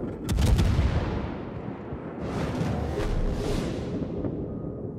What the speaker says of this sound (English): Maybe this next salvo.